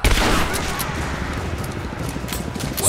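Gunfire rattles in a dense, continuous burst during a firefight in Rise of the Tomb Raider, with pump-action shotgun blasts among rapid overlapping shots, loud and close throughout.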